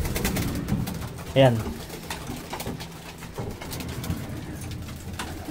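Racing pigeons coo in a breeding station, one clear near coo standing out over a soft background of other birds and rustling, while someone speaks briefly.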